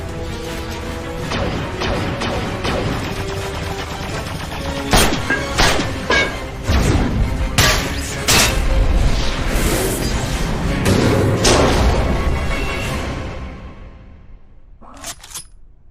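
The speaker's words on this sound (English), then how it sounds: "Grenade out!" Grenade blast in an animated Transformers episode: a loud, dense run of crashing, booming impacts and debris that churns for over ten seconds, then cuts off, followed by a couple of faint knocks.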